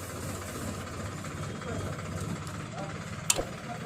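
A Hero iSmart 110 motorcycle engine idles with a timing chain problem, giving a steady close mechanical rattle and hum that runs throughout, with one sharp metallic tick near the end.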